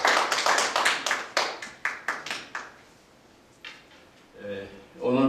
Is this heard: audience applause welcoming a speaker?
yes